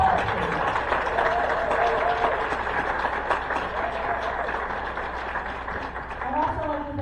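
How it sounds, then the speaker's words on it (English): An audience at a Fluvanna County community singers' Christmas concert applauds steadily for several seconds, a dense wash of clapping with voices carrying over it. "Can we give Bob a big round of applause, please?"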